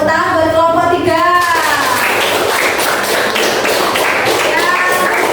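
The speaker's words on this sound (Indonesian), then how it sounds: "Tepuk tangan buat kelompok 3." A classroom of students bursts into loud, dense applause for a group that has just presented. A voice speaks briefly at the start, then the crowded clapping carries on steadily to the end.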